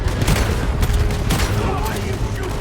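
Dense gunfire erupts while shooting bandits during a stagecoach robbery in Red Dead Redemption 2, loud overlapping shots and booms forming a near-continuous fusillade.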